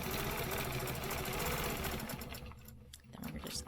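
Sewing machine running steadily while stitching a stencil quilting line through a quilt, a dense continuous mechanical whir that fades briefly near the end before picking back up.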